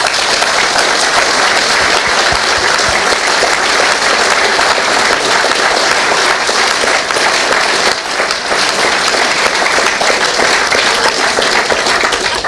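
A crowd at Vale Park, Port Vale's football ground, gives the club staff a loud, sustained round of applause, dense and steady for the whole stretch with no talk over it.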